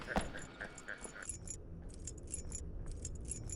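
A janitor's ring of keys jangling in the White Day horror video game, repeated soft metallic chimes in a rhythmic pattern as he walks, fairly quiet against a low background rumble.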